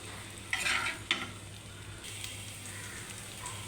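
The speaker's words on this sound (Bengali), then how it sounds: "এগুলো আমি সরষের তেলে সেমভাবে এগুলো সব ভেজে নেব" Green chillies and chopped onions frying in mustard oil, a soft sizzle with a couple of brief stirring scrapes early on, close but fairly quiet, no voices.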